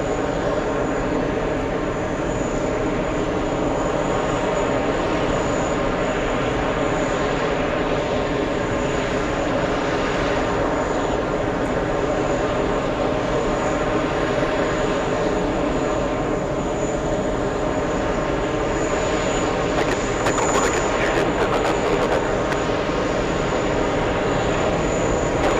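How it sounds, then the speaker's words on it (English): A French government aircraft landing at JFK makes a continuous, loud jet roar that holds steady throughout with a broad whine on top, heard alone with no talk. "Let's go over to the French government. Landing right now."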